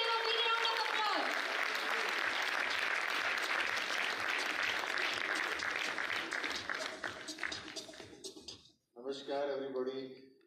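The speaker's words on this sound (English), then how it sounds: "Please give him a big round of applause." A conference audience applauds in a sustained burst of clapping that builds and then fades, followed by a short stretch of speech at the end.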